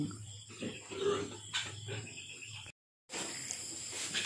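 Domestic pigs, a sow with nursing piglets in a pen, grunt in low, irregular snorts close by, followed by a short gap and a steady rustling hiss.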